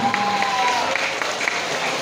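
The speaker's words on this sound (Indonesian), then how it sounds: "Tepuk tangan untuk SMP Negeri 3" A crowd claps for the second-place school at a children's traditional games competition award ceremony, a steady patter of moderate applause with a voice on a loudspeaker over it.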